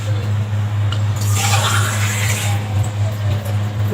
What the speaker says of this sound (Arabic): ميه بقى ايه؟ من الحنفيه